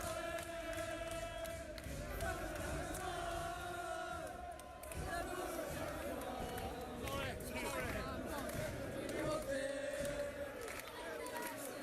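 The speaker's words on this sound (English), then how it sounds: "He's getting the bird off the crowd." Rugby league crowd at a Hull FC versus Wigan Super League match jeering and whistling at the conversion kicker, a dense, sustained roar of voices and shouts filling the whole stretch with swells of louder booing.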